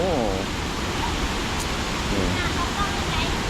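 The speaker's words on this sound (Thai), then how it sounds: "แต่ว่า น้ำตกนี่แบบรุนแรง น่าดูเลยอ่ะ" A powerful waterfall on the Pha Dok Siao nature trail roars as a dense, steady wash of broadband noise. A person speaks faintly over it.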